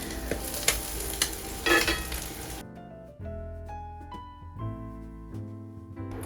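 Salmon patties fry in oil and butter in a pan with a loud, steady sizzle for a couple of seconds. Then the frying cuts away to quieter tonal music.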